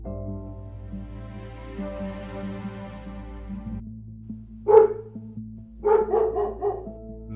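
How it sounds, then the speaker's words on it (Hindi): A dog barks twice, a single sharp bark followed by a quick run of several barks, close and loud after a sustained tonal musical passage. "कैलाश, क्या तुम अब कुत्ता बन गए हो?"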